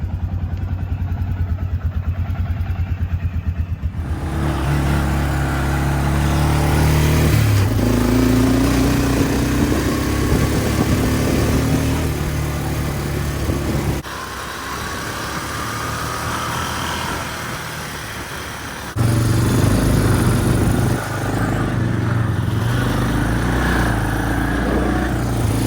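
An Arctic Cat 400 4x4 ATV with new front tires drives along, its engine droning steadily and fairly close for the whole stretch, rising and dipping as the throttle changes, with brief lulls and occasional clatter.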